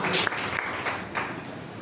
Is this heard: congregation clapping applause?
yes